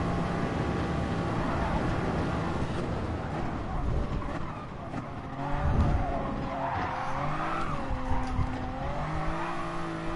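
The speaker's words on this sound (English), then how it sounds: "Might as well just spin out the car, and I lost all the momentum I had." A race car in Gran Turismo Sport spins out with tires skidding and squealing over a revving engine, loud and close, the engine pitch wavering and surging as the car slides.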